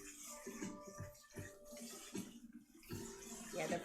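Tap water runs into a bowl of vermicelli noodles being rinsed, a steady splashing flow with shifting bursts as the noodles are moved, fairly quiet and close in a kitchen.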